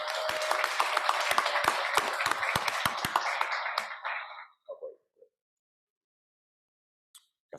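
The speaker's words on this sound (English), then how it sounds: "So give them a big round of applause." Audience applause at a school district board meeting, a dense crowd of clapping hands ringing out for about four seconds before tapering off into a few scattered claps and then silence.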